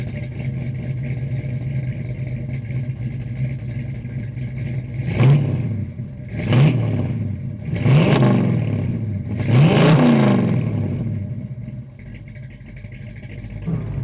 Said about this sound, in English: we're out cruising in the 69 Camaro